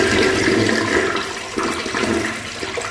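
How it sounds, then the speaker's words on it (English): A toilet flushes after the bowl has been cleaned, a loud, steady rush of water swirling and draining for about three seconds, close by with no talking. "and then flush it"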